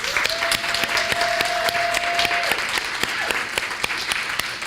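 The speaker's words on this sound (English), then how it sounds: "let's take one more round of applause for amazing authors" An audience applauds authors at a closing segment, a steady, full round of clapping with distinct sharp claps throughout and a brief tone early on.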